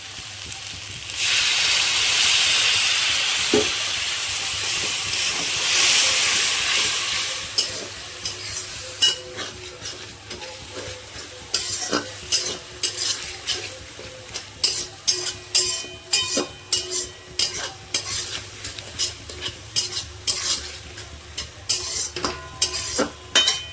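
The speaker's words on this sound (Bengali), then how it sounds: "এবার আমি অল্প জল দিয়ে কষিয়ে নেবো" Ground spices (chili, turmeric, coriander, cumin) sautéed in a pan with a little water for a yogurt chicken curry: a broad hiss of sizzling at first, then repeated sharp spatula scrapes and taps against the pan, close and alone.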